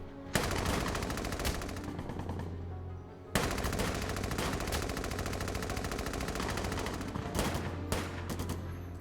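Sustained automatic gunfire from the Valkyria Chronicles 4 video game, dense rapid bursts running almost throughout with a brief gap early on, loud and close with no talk over it.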